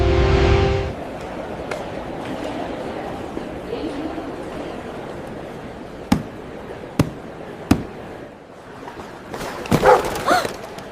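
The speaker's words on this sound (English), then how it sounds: "Did the suitcase bark?" A puppy shut inside a suitcase at an airport gives a few sharp, short barks, spaced apart and somewhat muffled, over a steady background rumble of the terminal.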